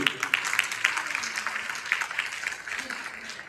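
Audience applause following a Hindi thank-you speech at an award ceremony, a steady wash of many hands clapping with some voices mixed in, moderately loud and continuous throughout.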